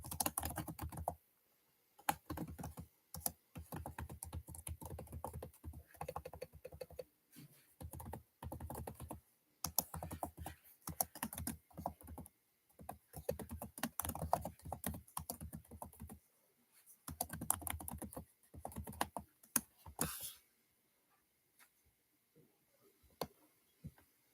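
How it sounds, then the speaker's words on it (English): Someone types on a computer keyboard at close range, with quick bursts of clacking keys separated by short pauses, ending with a few scattered taps. "Let me finish typing this."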